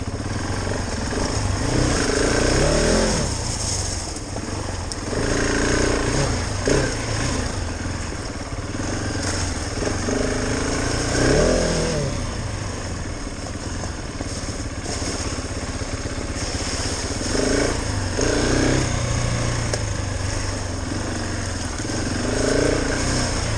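Engine of a KTM 690 Enduro R motorcycle ridden off road on dirt, heard close with repeated throttle surges and drops as the single-cylinder note rises and falls, plus rattling and clatter from the bike.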